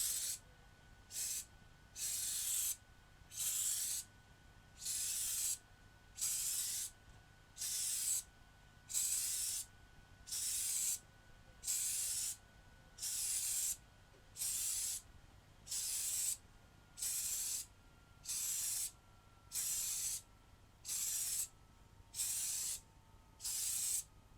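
A spray can lays a light coat of paint on a button box, with about twenty even hissing bursts in a regular rhythm, each lasting roughly a second, close and clear with short pauses between.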